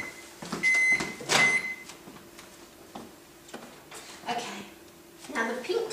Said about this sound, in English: It's just about to pop out of the microwave.